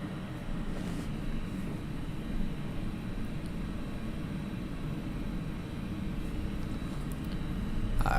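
ToLiss A319 airliner taxiing in X-Plane at Isle of Man airport, a steady low engine rumble with broadband hiss, constant and moderately loud, swelling slightly at the end, no voices.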